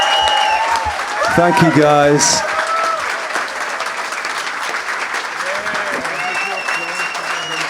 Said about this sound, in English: give it up, a huge round of applause for Mr.